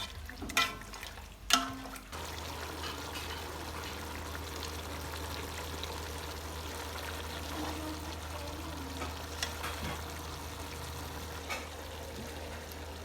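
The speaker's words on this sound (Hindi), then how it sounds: "अब इसको फिर भूनेंगे थोड़ी देर।" Mutton frying in yogurt for yakhni pulao: a couple of clunks and a stir at first, then a steady, soft sizzle and bubble that carries on at an even level with a low hum beneath.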